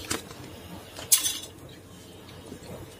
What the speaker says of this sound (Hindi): चम्मच से हम फैला देंगे इसको